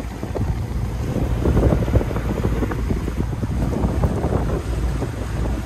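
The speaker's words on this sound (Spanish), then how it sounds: "estamos saliendo a probar aquí el Maco este de los Mercury a ver lo que dan las propelas" A Mako 33 boat runs out on the water with its three synchronized Mercury outboard engines, a steady, loud engine rumble mixed with heavy wind buffeting the microphone and some water noise throughout.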